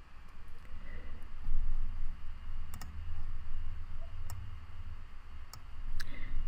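A computer mouse clicking to open MATLAB on a remote desktop, a few crisp, faint, isolated clicks spaced seconds apart over a steady low background hum.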